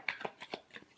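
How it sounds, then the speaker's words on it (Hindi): Tarot cards being shuffled by hand, with a few soft, quick riffling bursts close up, ending in a sharper snap. "last shuffle"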